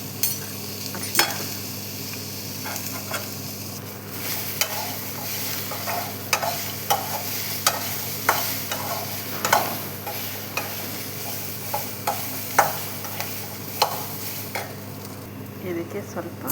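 A spoon stirs coriander leaves, turmeric and salt in a frying pan over a steady sizzle, with repeated sharp clicks and scrapes against the pan, close and even throughout.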